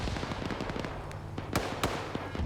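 Gunfire in a competitive online shooter match, a dense run of rapid cracks and pops with a few louder, sharper shots standing out over a busy, continuous background.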